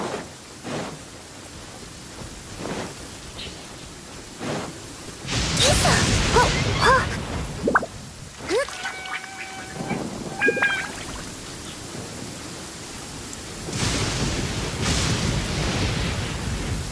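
Rain and thunder in Genshin Impact: a steady wash of rainfall runs throughout, swelling louder in bursts around the middle and near the end, with brief tonal game chimes scattered across it.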